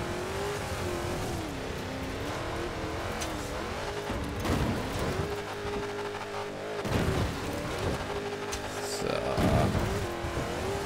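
Race car engine droning at full throttle in Forza Horizon 4 while playing on the Mattkickers site, loud and continuous, with pitch rising and falling through gear shifts and a few bumps and thuds along the way.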